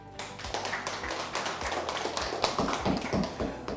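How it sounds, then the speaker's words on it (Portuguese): Applause for two people after a reading in a Portuguese lesson, a steady patter of claps from a small group, fairly close and continuous with no talking over it. "Uma salva de palmas para os dois"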